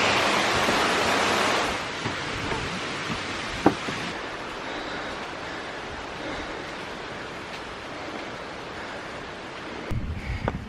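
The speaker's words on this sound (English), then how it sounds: "The waterfall runs alongside the stairs." Rushing water of Kuang Si waterfall in Luang Prabang, Laos, running beside a stone stairway: a steady, loud broadband roar that fills the whole stretch, with a brief sharp knock partway through and a few small bumps near the end.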